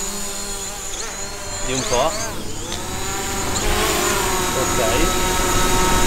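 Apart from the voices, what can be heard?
DJI drone flying away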